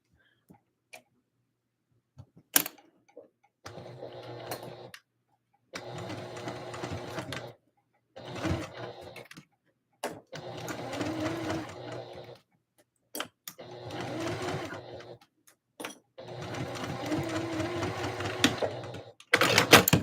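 A sewing machine bastes seams on a Christmas dress, running in six stitching bursts of one to three seconds each, separated by quiet pauses with occasional clicks and handling taps, fairly close and moderately loud.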